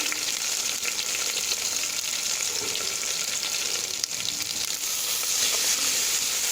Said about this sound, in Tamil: நல்லா வதங்கணும். பாருங்கள், வெங்காயம் நல்லா வதங்கிருச்சு